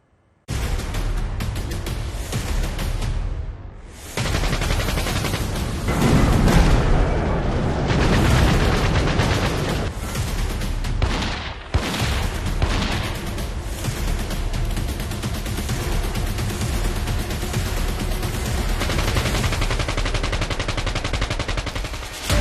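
AK-47 and sniper rifle fire at a bulletproof jacket: a dense, continuous barrage of loud shots and booms that barely pauses, with one brief dip before the shooting resumes in full.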